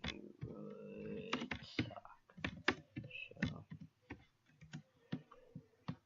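Typing on a computer keyboard during an online Zynga poker sit-and-go produces quiet, irregular key clicks mixed with a faint voice.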